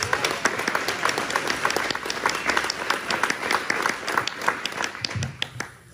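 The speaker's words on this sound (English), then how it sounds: "I think Contessa deserves a round of applause" An audience applauds for Contessa at a gathering, a steady, full round of clapping from many hands that carries on without pause, close and lively.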